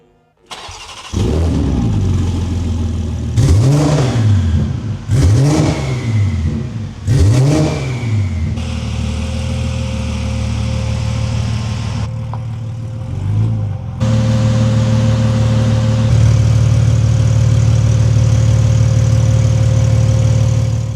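A BMW G87 M2 engine built for 1500 hp fires up on its new fuel system, barking through three sharp rev blips before settling into a loud, steady, droning idle.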